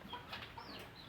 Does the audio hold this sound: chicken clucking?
yes